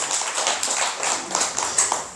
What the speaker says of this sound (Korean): 보살님 한번 박수 한번